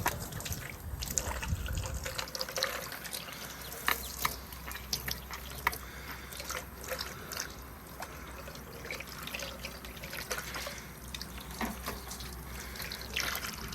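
Water runs gently over a gold cube sluice while it is cleaned out, a steady low trickle with scattered splashes and small clicks of gear handled nearby, continuous and fairly close.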